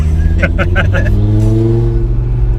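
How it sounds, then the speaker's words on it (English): A 2018 Audi RS3 facelift with 510 BHP launches hard, its loud engine note climbing steadily through a sustained rev with a few sharp crackles early on, close by with a voice briefly over it. "we should do a little launch"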